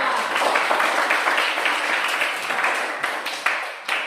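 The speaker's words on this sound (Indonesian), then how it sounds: "mari kita berikan tepuk tangan untuk kelompok 4" Classroom applause for a student discussion group after their presentation, a moderate burst of clapping from a room of students that gradually thins into a few scattered last claps.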